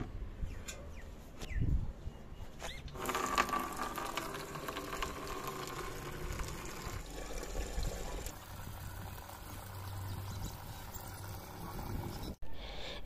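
Water running into a container on a rooftop, a steady rushing splash that continues for several seconds, moderately close, with faint background sounds and no talking.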